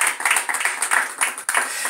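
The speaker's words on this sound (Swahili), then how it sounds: "Hebu tupige Yesu makofi mazuri kama tunasikilizana." A church congregation at a Swahili-language gospel seminar claps together in a steady, dense burst of applause, fairly close and continuous for the whole span with no talk over it.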